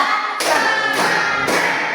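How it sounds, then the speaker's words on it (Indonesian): Rhythmic group hand clapping by a classroom of students doing a counting clap routine for concentration, a few sharp bursts of applause-like claps in quick succession, loud and close. "kita tepuk konsentrasi ya, biar semangat ya"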